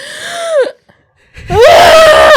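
A voice imitates a high, strained scream twice, the second longer and louder, with a near-silent gap between, mimicking a character's slight inhale before screaming; loud and close, with no ordinary talk.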